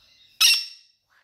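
A parrot gives one sharp, loud squawk that fades within half a second, followed by a faint short chirp.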